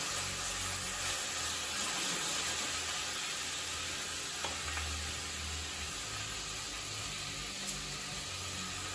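Onions and garlic sizzle gently in oil over medium heat, a soft continuous crackle with low stirring movements underneath and no voices.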